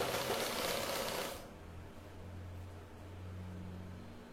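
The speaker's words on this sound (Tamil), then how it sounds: "பஃப் கை தைக்க போகிறேன்." A sewing machine running steadily while stitching a puff sleeve onto a jumpsuit, a low mechanical hum that starts after a brief burst of broadband noise and continues evenly.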